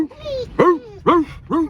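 Dog barking in short, loud, repeated woofs, four bursts spaced about half a second apart with a whiny, yelping edge, close by and sounding alone.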